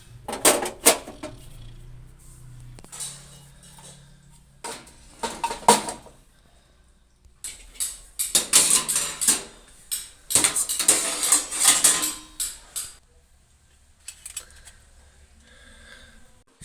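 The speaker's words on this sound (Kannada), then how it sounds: "ಅದರಿಂದ ಪಾತ್ರೆಗಳೆಲ್ಲ ಜೋಡಿಸ್ತಾ ಇದ್ದೆ." Household pots and metal vessels clatter in bursts as they are stacked and arranged, with sharp clanks and scrapes separated by short quiet pauses, close by.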